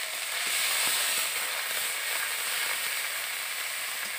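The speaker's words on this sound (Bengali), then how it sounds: "পেঁয়াজ বাটাটা আমি ভালো করে একটু ভেজে নেব" Ground onion paste frying in hot oil with bay leaf and dried red chilli, a continuous close hiss and crackling sizzle at an even, fairly loud level throughout.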